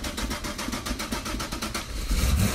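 A Chevrolet Impala's engine cranks with the key, giving a steady run of rhythmic pulses that swell into a heavier low rumble near the end as it tries to catch.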